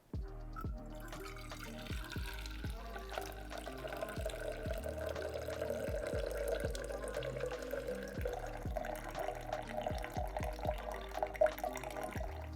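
Brewed coffee pours in a steady liquid stream from a French press into another vessel, with faint clinks and drips along the way, close and fairly quiet, with no talking.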